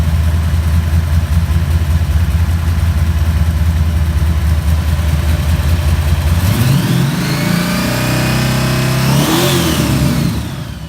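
Engine with freshly reinstalled cylinder heads runs with a rough, loud chugging idle, then revs up in two rising sweeps near the end before settling, close and alone without talk.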